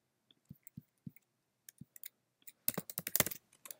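Close, quiet keystrokes on a computer keyboard: a few spaced taps at first, then a quick flurry of typing near the end.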